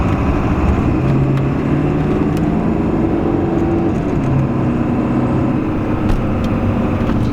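A large 7.3-liter engine with stock exhaust idles with a deep, steady rumble, loud and close, holding a constant low throb with no voices.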